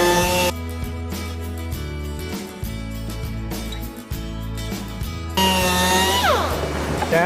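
A power sander works over wooden furniture in a workshop, giving a loud, steady mechanical whine that shifts in pitch as pressure changes, with no talk.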